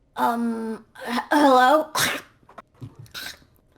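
A voice imitates coughing and hacking up a hairball, with harsh throaty bursts and retching sounds close up, followed by short sputtering noises.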